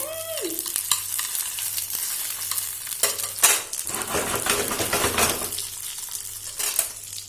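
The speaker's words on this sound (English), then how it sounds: "mix the sausage so it will get burned if I don't mix" Sausage sizzles and fries steadily in a pan while a utensil stirs and scrapes it, with occasional clinks of metal against the pan; no voices.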